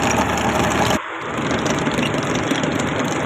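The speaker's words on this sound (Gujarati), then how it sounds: "હરવું ટ્રેક્ટર હાલી જાય છે અને ખાડો વાંહે ભરાતો જાય છે" A tractor engine runs steadily on a farm while a trench is dug and filled for a water pipeline. The rumble is loud and continuous, with a brief dip after the first second, and no talking.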